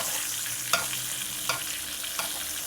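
A steak basting in a hot pan for a surf and turf dinner gives a steady close sizzle, broken by three sharp spoon clinks at even intervals as fat is ladled over the meat.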